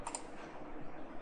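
Clicking in 3D CAD drafting software, a couple of light, close clicks at the very start followed by faint room noise.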